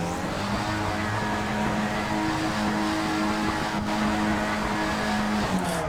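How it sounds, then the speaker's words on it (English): A loud Skip Barber race car engine in iRacing revs high and steady on the grid at the Nürburgring before the start, a continuous buzzing roar holding pitch with small fluctuations. "Revs are rising."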